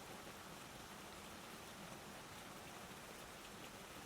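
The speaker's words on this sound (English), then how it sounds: "the rain fell steadily, blurring the edges of the world beyond the greenhouse walls." Steady rain falls on a greenhouse, a dense, even hiss of drops on glass that holds constant and fairly soft throughout, with no voices.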